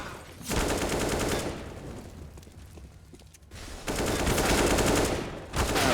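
Pistol gunfire in a Counter-Strike match played on the Train map, with bursts of rapid shots and a short quieter gap between them.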